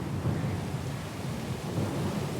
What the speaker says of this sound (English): lost and alone in the storm